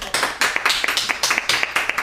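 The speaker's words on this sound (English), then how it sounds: "We should clap." A small group claps together indoors at a valedictory certificate presentation, a steady run of sharp, close hand claps that continues throughout with little talk.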